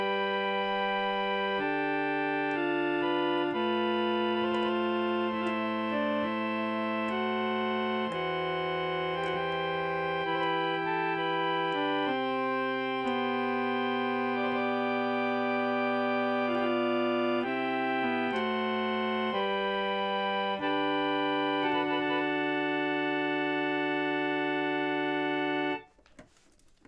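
Ornamented organ music, sustained chords with quick decorative note changes over held bass tones, played steadily and loud for about 25 seconds before cutting off abruptly.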